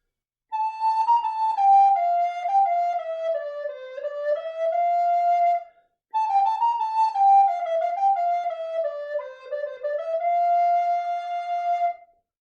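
A recorder plays the A parts of Kemp's Jig as written, two clear melodic phrases of evenly tongued notes, alone and fairly soft with a short gap between them.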